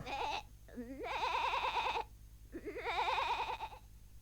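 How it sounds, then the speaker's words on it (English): Goat bleating in a Hunchback of Notre Dame PlayStation video game: two long, wavering, nasal bleats separated by a short pause, loud and close with no talk. "May I introduce Jolly, the smartest goat in the world?"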